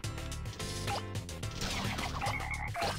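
Frogs croak in Katamari Damacy Reroll as a repeating low, throaty pattern over bright game music, with a few higher chirps layered in, moderately loud and without any speech.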